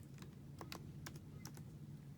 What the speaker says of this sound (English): by typing in the code G30